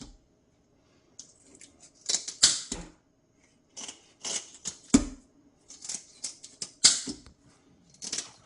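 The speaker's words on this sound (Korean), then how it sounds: "가위로 지느러미를 자르시면 돼요." Scissors snip the fins off a large wild rockfish from Heuksando, a series of sharp, close cutting clicks and crunches in irregular bursts separated by brief pauses.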